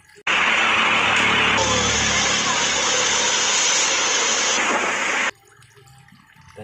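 Water gushes loudly and steadily over toy trucks as they are washed, a continuous rushing pour that starts abruptly and cuts off after about five seconds.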